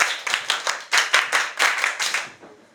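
A classroom of students claps for a classmate, a short burst of quick, bright hand claps in uneven bursts that taper off toward the end, close and without talk.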